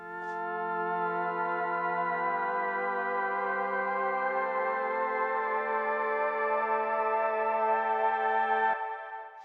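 A sustained Logic Pro synthesizer pad patch, Astral Oracle, holds a rich, layered chord for several seconds, smooth and steady, then fades out at the end.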